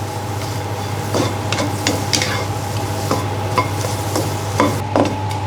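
Miang kham sauce ingredients dry-roast in a pan, with a steady low sizzle and hum and intermittent stirring scrapes and taps, close by, with no talking.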